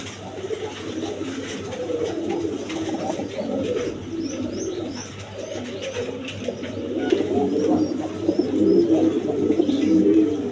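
Pigeons of a quality breed kept for sale coo repeatedly at close range in a loft, with soft bird chirps mixed in and the low cooing swelling louder toward the end.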